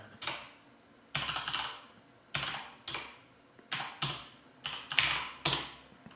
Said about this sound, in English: For the amount of time I've spent on a computer, I'm so fucking shit at typing